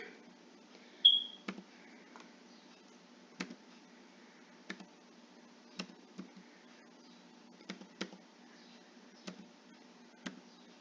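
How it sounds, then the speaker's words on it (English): Sparse keyboard clicks while a classroom library book's details are entered on a computer, isolated taps spaced a second or so apart, quiet and close, with no talking. "I'm gonna type it in."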